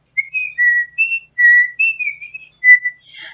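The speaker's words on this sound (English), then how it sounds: "As Bunny skipped along the trail, he whistled his favorite song." A cheerful tune is whistled clearly and close, a string of short melodic notes with brief pauses between phrases, heard alone against silence.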